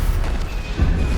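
A Stupefy spell cast in the Hogwarts Legacy video game, a short, heavy booming impact with a deep low thump, loud and brief, with no talk over it.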